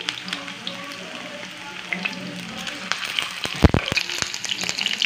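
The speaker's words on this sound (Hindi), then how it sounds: "कोफ्तों को आप फ्राई कर लें" Koftas sizzle steadily as they fry in hot oil, a close, dense crackle with scattered sharp pops that grow busier toward the end, and no talk.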